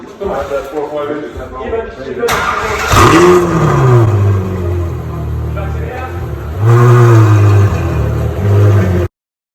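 Loud Ferrari F12 V12 engine blipped and revved hard twice, roaring up and falling back, with a rumbling idle between bursts; no talking.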